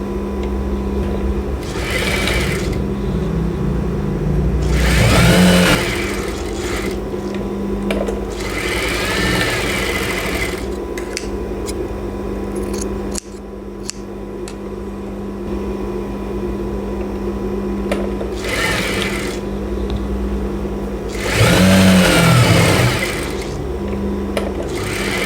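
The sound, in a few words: sewing machine stitching fabric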